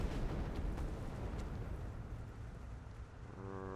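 An SU-122-54 tank in War Thunder fires its main gun, a loud deep boom whose broad rumble fills the opening and slowly fades into a long low roar, with engine hum coming through toward the end.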